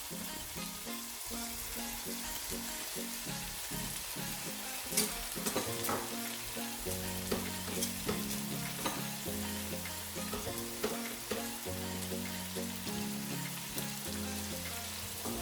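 Cabbage and carrot fry in a pan with a steady, close sizzle and occasional stirring clinks, while a rhythmic musical backing plays underneath throughout.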